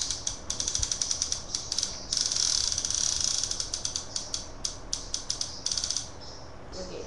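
A red SureCatch bait caster fishing reel clicks as it is wound, giving rapid ratcheting bursts that start and stop in uneven runs, close and crisp, with no voices.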